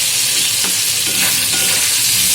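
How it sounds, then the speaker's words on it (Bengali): Tomatoes frying in a pan with potatoes, stirred steadily with a spoon; a constant close sizzle with soft scraping strokes, no talking. "1 মিনিট পর্যন্ত আমি এটাকে ভালো করে নেড়ে চেড়ে নেবো, যাতে টমেটোগুলো গলে যায়।"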